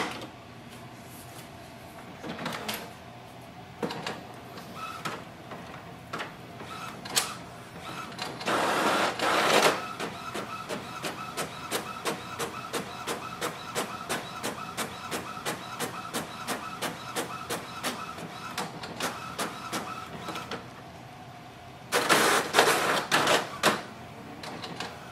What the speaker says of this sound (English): If I click on the print, you will see it can do the two-sided printing automatically.